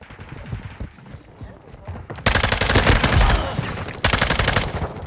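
Bursts of rapid gunfire in Call of Duty: Modern Warfare II, loud and close, with two dense volleys separated by a brief pause after a quieter stretch of game noise.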